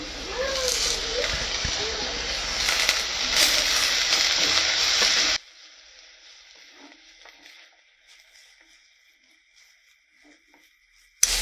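Onions sizzle loudly in a hot pan with stirring scrapes while cooking an Indian egg fry, then the frying continues as a quieter, steady crackle.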